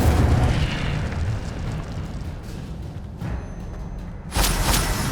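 An Incendio fire spell cast in Hogwarts Legacy on PS5 gives a loud, rumbling, explosive whoosh of flame that swells and then fades, and a second fiery burst follows near the end.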